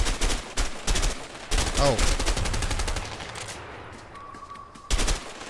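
Gunfire in the game A Way Out: repeated sharp shot bursts in quick volleys, then a brief lull and a final loud shot, with a short exclamation from a voice.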